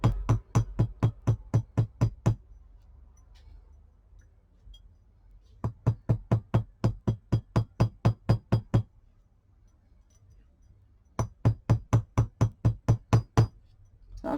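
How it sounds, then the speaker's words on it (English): A hammer strikes paper bead earrings made from recycled Christmas cards in three close, loud runs of rapid, evenly spaced blows, with short quiet pauses between the runs. "what I'm going to do is to hammer."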